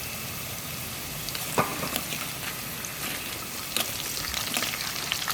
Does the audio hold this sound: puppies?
no